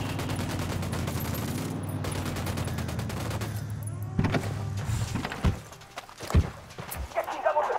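Gunfire in the video game Ghost Recon Wildlands: a rapid, sustained automatic burst early on, then a few scattered louder shots and impacts against a quieter background.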